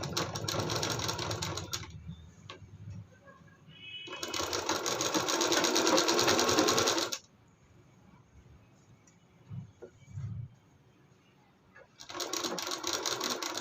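Close domestic sewing machine stitching a blouse sleeve, with two steady whirring runs broken by a quiet pause of handling and fabric rustle, then starting up again at the end.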